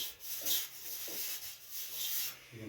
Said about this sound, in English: We're just going to use this broom to get the dust off before we tighten down.